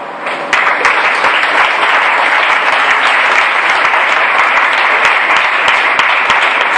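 A church congregation bursts into loud, sustained applause mixed with cheering, dense clapping that starts abruptly and carries on evenly to the end, close and without speech.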